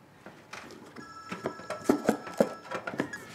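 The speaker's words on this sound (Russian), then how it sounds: "Ваньте, звонят." A telephone rings at home in a faint, repeated electronic warble over quiet room noise, with soft clatter and a few knocks.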